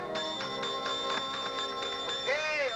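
A hotel desk bell is rung over and over in quick, evenly spaced strikes, each bright metallic ding ringing on and overlapping the next, fairly close and clear, with a voice briefly heard toward the end.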